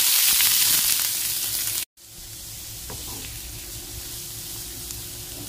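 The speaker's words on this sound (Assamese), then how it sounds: "ফ্ৰাই পেনখন বহাই দিলো তেলখিনি গৰম হৈ গৈছে এতিয়া পিয়াজখিনি ঢালি দিম ইয়াতে" Chopped onions go into hot oil in a frying pan: a loud, bright sizzle cuts off for a moment, then settles into a quieter, steady frying hiss.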